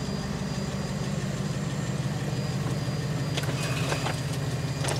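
Car engine idling steadily while cooling down on a steep mountain road, a constant low rumble close by, with a few brief clicks and rattles near the end and no talk.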